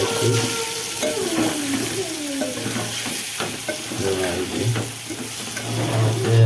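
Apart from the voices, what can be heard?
stirring vegetables frying with chili powder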